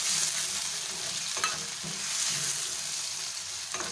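Steady, close sizzling of tomatoes and green beans frying in a pan for biryani, with a few soft stirring scrapes and no talking.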